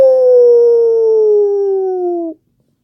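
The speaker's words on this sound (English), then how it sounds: "the wolf makes a sound like this." A wolf gives one long, clear, tonal howl close by, gliding slowly downward for about two seconds before cutting off into silence.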